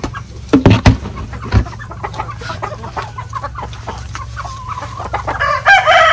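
Native chickens cluck nearby, with a couple of sharp loud calls early on and a rooster crowing toward the end, over a low background hum.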